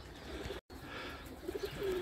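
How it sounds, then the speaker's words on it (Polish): Soft racing pigeon coos and a few faint chirps murmur in the background of a quiet outdoor space as the flock enters the loft. "Gołębie zaczęły wchodzić do gołębika"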